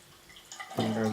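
Sourdough homebrew beer poured aggressively into a glass to force a head, a close splashing pour that swells into a loud liquid rush over the final moments.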